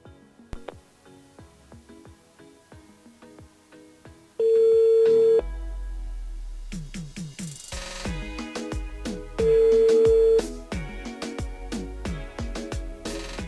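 Telephone dialing for a live call-in on a French-language radio show, with two long steady tones among rapid keypad beeps and ringing. The tones and beeps are loud and close against busy background audio.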